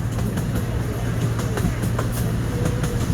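Amusement park train ride at Knoebels heading into the woods, a continuous rumble with rhythmic clacks and low hum, steady and moderately loud from on board.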